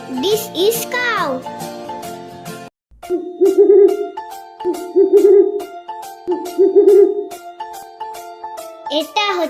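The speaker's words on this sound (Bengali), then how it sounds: "এটা হচ্ছে পেঁচা।" An owl sound effect repeats four short, low hoots at a regular pace over a jingly children's tune, with a voice heard at the start and end.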